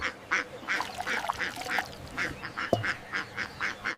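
A duck quacks over and over in a quick, even rhythm, close by and fairly loud, with one sharp knock partway through.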